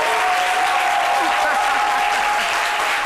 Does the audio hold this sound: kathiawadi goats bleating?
no